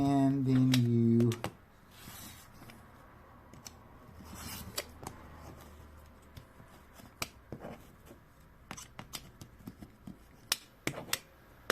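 Scissors or a cutter slicing through quilting fabric for half square triangles, heard as a series of crisp, close clicks and snips scattered irregularly after a brief moment of speech.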